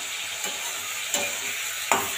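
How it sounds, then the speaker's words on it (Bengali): Vegetables frying in a pan with cumin powder, dried red chilli and bay leaf, a steady low sizzle broken by three distinct spatula scrapes spaced across the moment. "এখন একটু জিরে গুঁড়ো দিয়ে দিলাম।"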